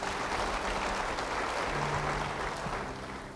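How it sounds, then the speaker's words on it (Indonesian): A church congregation applauds during an Indonesian sermon, a broad, steady wash of clapping that holds evenly for a few seconds with a faint tonal hum beneath it. "Beri tepuk tangan bagi dia."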